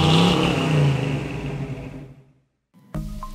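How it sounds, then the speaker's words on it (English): A 2019 Toyota Corolla SE revs and accelerates, its engine loud and close before fading out, followed by a brief clatter after a short silence. "today we're driving this, the Toyota Corolla SE."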